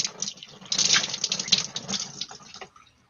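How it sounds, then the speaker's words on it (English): Things being rinsed under a running tap, a steady gushing splash of water that swells and fades over a few seconds before tapering off, close by with no talk. "Hang on, I'm rinsing some stuff here."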